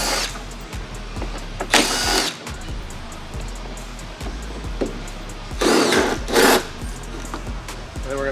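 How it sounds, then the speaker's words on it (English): A power tool, likely a drill or driver, backing out T40 screws from a car's dash, whirring in two loud bursts over a steady background hum, close by and with no talking. "we're gonna remove these 4 screws, they are T40s as well, from the dash"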